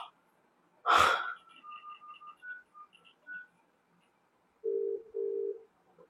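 A sharp click, a few short electronic beeps, then two steady low tones in a row, like a phone ringing on the other end of a call.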